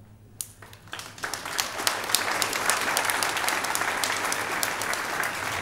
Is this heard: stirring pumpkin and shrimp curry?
no